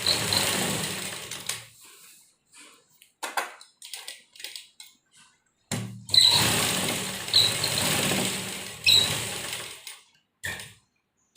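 A sewing machine stitches a pocket onto a blouse in several close, loud bursts of rapid whirring, with quiet pauses and small handling clicks between runs.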